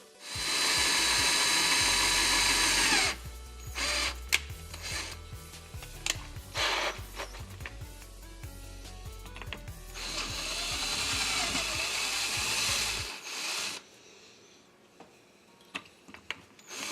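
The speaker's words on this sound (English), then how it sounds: "I'll drill the hole and show you where it's at." A power drill with a dull 7/64 bit grinds into a metal TH400 transmission valve body in two loud bursts with a pause between, followed by quieter scraping and tapping.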